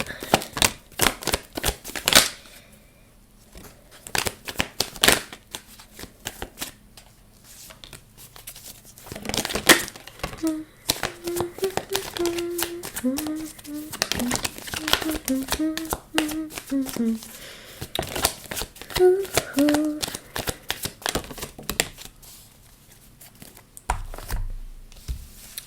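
Tarot cards being shuffled and handled, with papery riffles, taps and crinkling rustles in bursts across the span, close by, while a person talks over parts of it.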